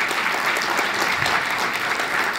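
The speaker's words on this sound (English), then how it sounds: "Let's give a round of applause for Pablo." A brief, even round of applause from a conference workshop audience for Pablo Neira Ayuso, chair of a Netfilter workshop, dense and steady at moderate volume with no speech over it.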